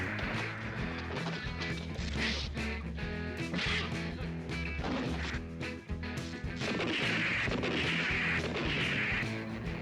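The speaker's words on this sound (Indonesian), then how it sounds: "Jim pun ditembak oleh Pedro berkali-kali" Repeated gunshots and crashing impacts from a Western film scene, a dense series of sharp blasts over a loud dramatic music score, no speech.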